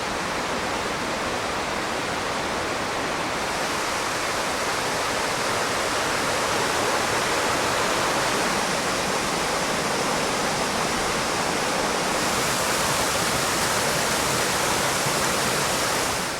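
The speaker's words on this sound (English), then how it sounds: "Trails sort of become a creek all through here." Floodwater rushes loudly and continuously as a creek over a trail in Great Smoky Mountains National Park, a dense, unbroken roar close by with no talk.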